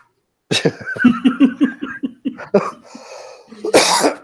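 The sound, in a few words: coughing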